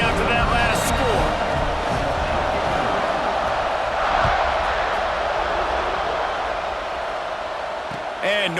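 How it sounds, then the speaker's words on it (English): A stadium crowd in EA Sports College Football 26 roars with a steady, dense buzz that fills the whole stretch, while a commentator talks over it. "this crowd is buzzing after that last score"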